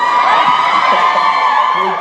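Convention panel audience screaming and cheering in a large hall, a dense, steady wall of crowd noise with whoops, loud and continuous throughout.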